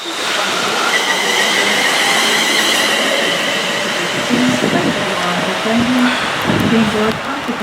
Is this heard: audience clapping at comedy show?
no